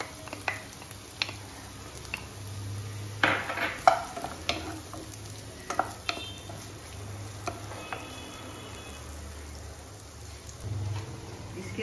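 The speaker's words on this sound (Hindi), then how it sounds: "और उसमें हम डाल देंगे 1 फाइनली चॉप्ड अनियन।" Finely chopped onion frying in oil and butter sizzles steadily in a pan, with occasional sharp clinks and scrapes of a spoon against the metal and a low hum underneath.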